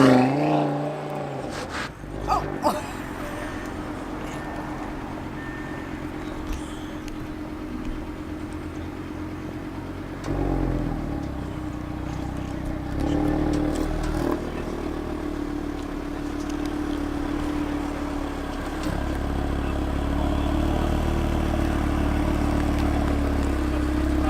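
A 2018 Audi TT RS launching with the gas pedal floored, a steady loud engine drone that rises in pitch and intensity over time, heard from inside the car with no talking.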